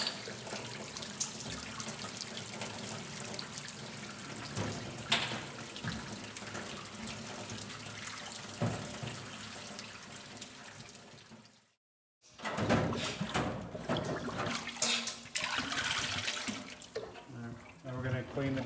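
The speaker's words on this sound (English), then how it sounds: "Now I'm going to fill the sink with our mild detergent wash." A sink fills with water and mild detergent from a running tap, a steady close hiss and splash that cuts out briefly and then resumes with louder gushing and clatter.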